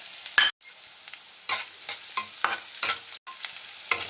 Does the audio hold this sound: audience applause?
no